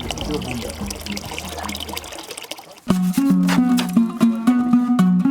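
Water running and being poured into a container for bathing at a school, a steady trickle followed by a louder, splashing fill with voices faintly in the background.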